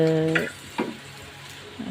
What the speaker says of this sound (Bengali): আজকে রান্না করছে ইলিশ মাছ ভাজা রান্না